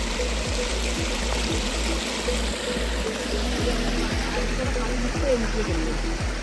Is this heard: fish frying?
no